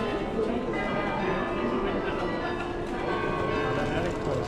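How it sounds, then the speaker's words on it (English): Church bells ring out in the town of Bruges, mixed with street noise and people talking close by. "Those bells go off quite frequently,"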